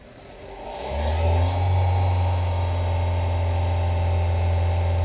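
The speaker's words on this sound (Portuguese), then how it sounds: "Vou pedir a Chico para acelerar o carro." A car engine revs as the accelerator is pressed during a PWRT control system test: idle rumble swells into a strong steady drone, loud and close with a hiss on top and no talk.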